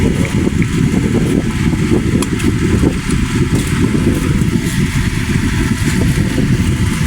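A motorcycle engine runs steadily nearby with a loud, even idle rumble and no revving, filling the whole stretch without talk.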